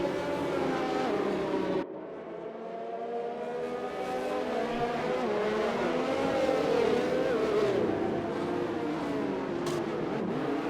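Race car engines in an Xbox racing game at the Singapore circuit, a continuous droning whine that shifts in pitch as cars rev and pass, with a brief dip near the start and commentary over it.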